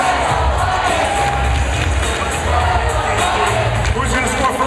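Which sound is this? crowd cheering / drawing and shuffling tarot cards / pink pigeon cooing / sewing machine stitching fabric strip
crowd cheering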